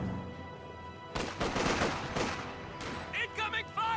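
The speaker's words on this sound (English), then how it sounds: "Taking small arms fire!" Small arms fire in a World War II-style multiplayer strategy video game, a dense burst of rapid gunshots starting about a second in and continuing in clustered volleys, with brief sharper crackles near the end.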